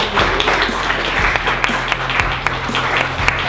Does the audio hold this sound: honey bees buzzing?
no